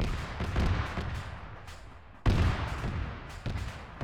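Heavy booming mortar impacts in a military shooter game, two loud blasts a couple of seconds apart with rumbling tails and lighter thuds between.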